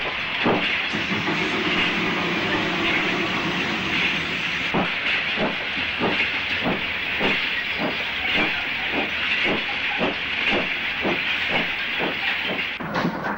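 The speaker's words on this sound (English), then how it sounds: "Black 5 45040 pulls away, returning to Oxley Yards" A Black 5 steam locomotive, number 45040, pulls away near Wellington station around the 1960s, its steady hiss joined by a growing run of regular beats and clickety-clack that quicken as it gets under way.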